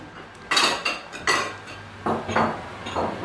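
Pots and cutlery clattering as a grandmother cooks tomato soup in a home kitchen, several sharp metallic clinks and scrapes in irregular bursts, close and clear with no talk.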